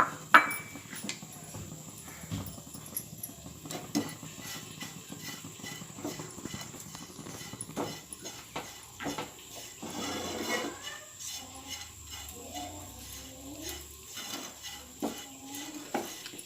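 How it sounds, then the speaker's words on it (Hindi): Dried coconut being dry-roasted in a frying pan over a low gas flame, heard as soft scraping and light clinks of a spoon stirring against the pan in an irregular rhythm, with no talking. "अब मैं खोबरा डालकर थोड़ा हल्की आंच पर भून के लूँगी।"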